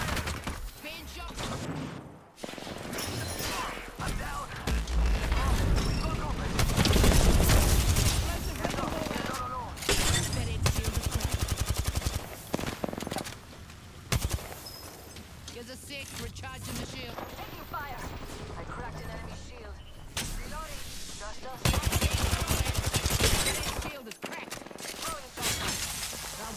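Video game gunfire: bursts of rapid shots and shattering impacts come in loud waves. Short pauses break them up, and clipped voice lines and talk run over the top.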